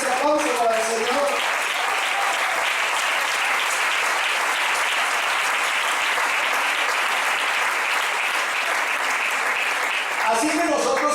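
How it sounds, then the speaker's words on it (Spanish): A church congregation breaks into strong, sustained applause for the Lord: loud, dense clapping that fills the whole stretch, with a preacher's voice just before and just after it. "Fuerte ese aplauso para el Señor."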